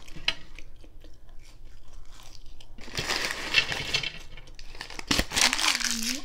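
Jack in the Box fries are bitten and chewed close to the mic, with soft crunches and crinkling packaging that swell into louder bursts toward the end.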